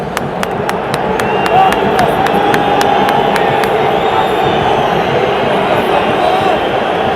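A large Hungarian football crowd cheering in Ferencváros's stadium in Budapest, a dense continuous roar that fills the space, with a quick burst of sharp clicks near the start.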